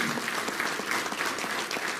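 Dense, continuous audience clapping at an award ceremony, many hands together in a steady, moderately distant wash with no gaps across the short stretch.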